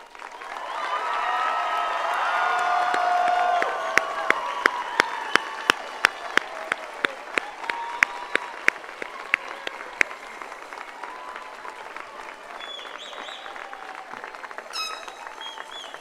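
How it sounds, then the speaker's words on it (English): A commencement audience at Brazosport College gives a graduating class a final round of applause, a loud, dense swell of clapping that thins into scattered, distinct claps and fades toward the end. "Would the class of 2026 stand and turn and face the guests for one last round of applause from the audience?"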